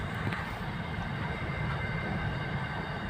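A train rolls past near Dankuni station with a loud, continuous rumbling roar and clatter that stays steady throughout, close and unbroken.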